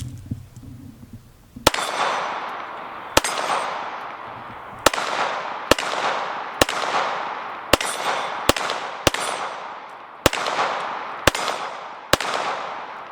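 Springfield Hellcat 9mm handgun firing eleven sharp, cracking shots at an uneven pace, each followed by a short ringing decay, loud and close with no talking.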